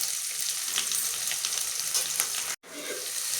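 Onion with mustard seeds and cumin sautéing in a pan, a steady close sizzle and crackle with a brief dropout near the end, no talking.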